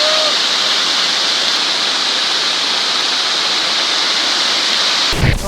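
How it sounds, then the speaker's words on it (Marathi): Mandale waterfall near Mahad heard from right at its base, a loud, steady roar of falling water filling the whole stretch, with a brief thump near the end. "आणि आता आलेलो आहे मांडले धबधब्याचं एकदम खालती."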